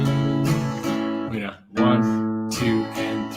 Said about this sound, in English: so that's the strum pattern